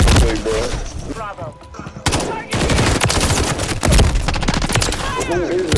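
Rapid gunfire in a Call of Duty: Modern Warfare 3 multiplayer match, dense bursts of shots over the game's din, with voices talking in between.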